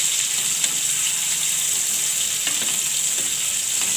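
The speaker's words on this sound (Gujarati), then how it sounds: "આપણે ઘડીક તેલમાં સડવા દેવાની છે" Steady, continuous sizzling of sliced cucumber frying in hot oil, close up, with faint occasional clinks and no voices.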